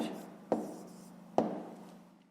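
A pen writes an answer in a school notebook for a fifth-grade maths exercise, with two short, sharp taps followed by soft scratching strokes, quiet and close.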